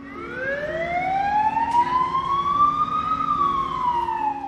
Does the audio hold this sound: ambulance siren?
yes